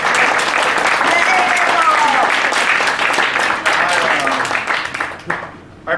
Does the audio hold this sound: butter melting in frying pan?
no